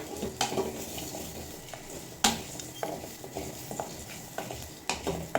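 Onions and cashews fry lightly in a pan for a mutton dish, giving a soft sizzle broken by sharp scrapes and clinks of a spoon stirring against the pan.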